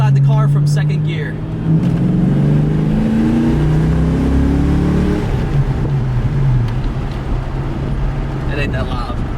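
A Ford Foxbody Mustang engine running open headers pulls hard in second gear from inside the cabin, its tone climbing steadily as it accelerates, then easing off, with voices talking faintly underneath.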